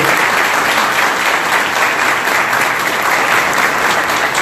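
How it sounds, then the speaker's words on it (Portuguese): Sustained, dense applause from a conference audience honouring a paper's first author, steady and loud for the whole stretch with no voices over it. "queria também uma salva de palmas para ele"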